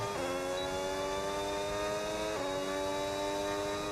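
A Red Bull Formula 1 car in an F1 racing game, its high engine note holding a steady whine and then stepping down as it shifts gear, loud and continuous, with no talking.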